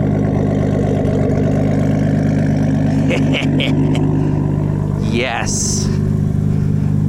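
A 1993 Nissan R33 GTST with new turbo lines and upgraded injectors idles steadily nearby with a low, even drone, under a brief spoken word.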